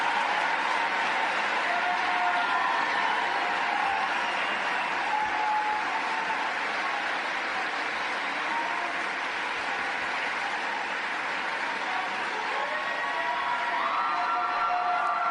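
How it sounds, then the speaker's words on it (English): Sustained applause and cheering from a large political rally crowd giving a standing ovation, a dense continuous roar of clapping and whoops that stays loud and steady throughout with no speech over it. "Now, that kind of standing ovation"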